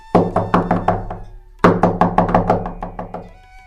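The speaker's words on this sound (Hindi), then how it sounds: "किसी ने दरवाजा खटखटाया" Two quick bursts of knocking on a door in a cartoon story, each a run of about six sharp, resonant raps fading slightly, separated by a short pause, loud and close with no voices.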